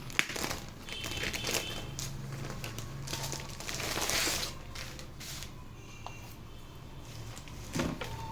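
Plastic seal packaging on a Dell 12th Gen laptop box crinkling and rustling as it is handled, close and fairly quiet, with irregular crackles and a few sharper snaps over several seconds.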